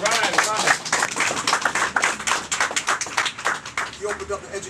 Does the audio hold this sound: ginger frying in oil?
no